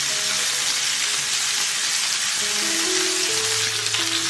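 Pork bones seasoned with salt and black pepper sizzle steadily in a pan as they brown to golden, a dense, even crackle of hot fat holding at a constant level throughout.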